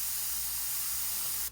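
An airbrush sprays paint in a steady, close, hissing burst that cuts off abruptly at the end, with no talk over it.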